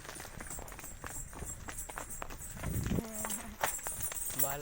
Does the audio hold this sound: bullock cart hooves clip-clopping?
yes